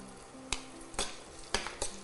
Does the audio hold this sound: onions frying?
yes